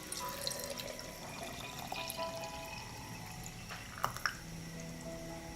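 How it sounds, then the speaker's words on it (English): Water poured over cut banana peel in a jar, a steady wet trickle and splash with a few small drips toward the end, close and moderately quiet. "Pour half a liter of water over the banana peel."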